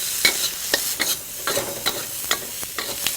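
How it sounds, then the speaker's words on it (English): Spices fry in ghee with a close, continuous sizzle, broken by repeated scraping stirs at a fairly regular pace, with no speech. "When you fry your spices in ghee"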